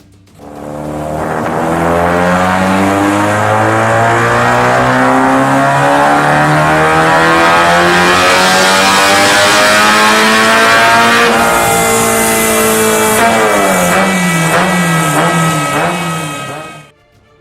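Toyota 3S-GE naturally aspirated 2-litre four-cylinder engine revving hard and loud, climbing steadily through a long pull, then briefly dropping and rising again with a harsher, brighter edge before cutting off.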